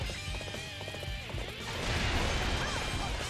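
A horse in Dynasty Warriors 8 Xtreme Legends whinnies and gallops amid battle clatter, the neigh loud and wavering over dense game noise, then rapid hoofbeats as it runs.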